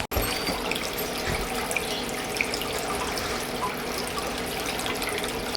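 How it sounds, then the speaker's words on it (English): Steady running water from a small backyard goldfish pond, a continuous splashing trickle that stays even and moderately close throughout with no voices. "If you're wondering what the running water sound is, it is koi pond."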